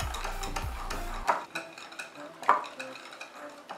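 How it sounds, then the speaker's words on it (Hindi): Eno and milk are beaten into a fluffy paste for a cake, a spoon scraping and clinking against a bowl in quick, uneven strokes, close and fairly quiet. "इनो और दूध को आपको इस तरीके से पेस्ट में अच्छे से मिक्स करना है"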